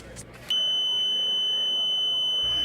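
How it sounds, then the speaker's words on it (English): Radiation contamination monitor sounding a steady, piercing electronic tone that starts abruptly and holds loud and close, with faint voices in the background. "Why is that beeping?"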